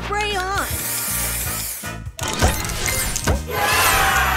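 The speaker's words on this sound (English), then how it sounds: "Booster ready! Spray on!" A spray booster effect from the Match Masters puzzle game, a loud hissing burst laid under an excited game announcer's voice and bright synthetic chimes, with a short pause before a second spray surge.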